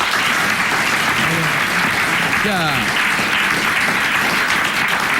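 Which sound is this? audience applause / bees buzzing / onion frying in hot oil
audience applause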